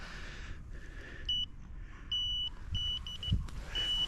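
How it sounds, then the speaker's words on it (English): An electronic fishing bite alarm on a pike rod at a lake gives a series of short high beeps in irregular bursts, moderately loud over a soft outdoor hiss and low rumble. "switch this alarm off so I can fiddle around with it without annoying everybody else on the lake"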